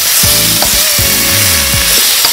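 Diced onions fry with Maggi seasoning, ginger and chili paste for a courgette sauce. The sizzle is loud, close and constant, with scraping stirs running through it and no voices.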